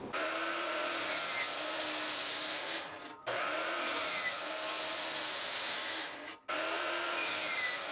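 A saw makes an angled cut through a plywood divider in a woodworking shop, a steady loud rasping run that breaks off twice in short gaps and resumes, three passes in all, with no voices.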